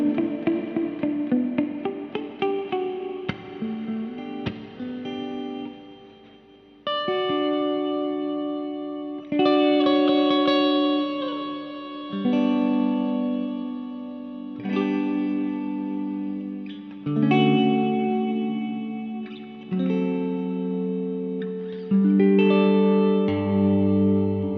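Electric guitar, a PartsMaster Caster Blaster, played through a Caline Barn Owl G-008 reverb pedal: strummed chords and picked notes ring out with a lush, moderate reverb tail, phrases separated by brief pauses, no talking.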